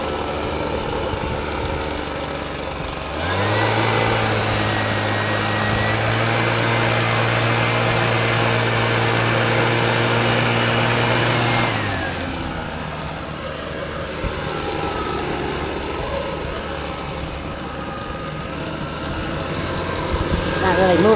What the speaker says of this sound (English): we're just going to edge it and see what the product is